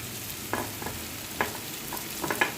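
Ground cumin, coriander and chilli powder stirred in hot oil for restaurant-style palak paneer, with a few scraping spoon strokes over a low, steady sizzle.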